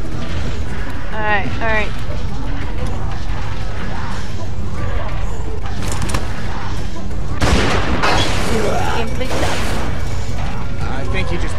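Gunfire in The Walking Dead 400 Days video game sounds as sharp bursts of shots among creaks and game noise, while people talk over it throughout.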